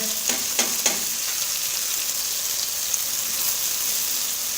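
Steady sizzling of garlic ginger paste frying in a hot pan, with a few soft clinks of a utensil stirring near the start.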